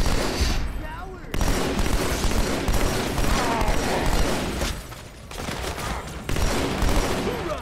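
Rapid automatic assault rifle fire in Halo 2 Anniversary, loud and nearly continuous bursts with brief pauses, mixed with other gunfire and explosions of a close-quarters battle.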